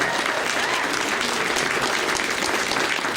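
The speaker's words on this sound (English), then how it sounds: "Yes, big round of applause." A big crowd at an outdoor Pride event breaks into loud, dense applause that holds steady for the whole stretch.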